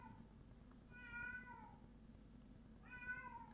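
A cat meows twice, each call a drawn-out, fairly quiet cry about two seconds apart, over a low steady background hum.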